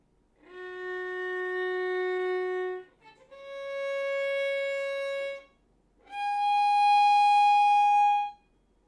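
Violin playing three long sustained review notes from a lesson, each bowed for about two seconds with brief gaps between, clear and moderately loud with no talk.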